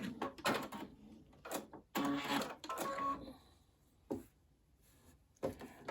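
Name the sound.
sewing machine sewing a straight seam on quilt binding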